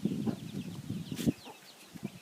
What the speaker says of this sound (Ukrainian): Наші квочки. Одна, ось друга з курчатками.